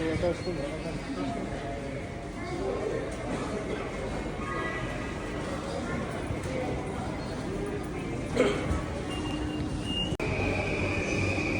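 Train rumbling and rolling through a station in Tokyo with wheels squealing and clattering, a steady loud mechanical noise with a brief screech near the end.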